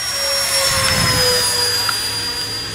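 An E-flite Habu SS 70mm electric ducted-fan jet running on 6S at half throttle gives a steady, loud whooshing whine with high tonal lines that hold constant through the whole stretch.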